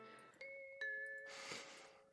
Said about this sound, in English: The doorbell suddenly rings.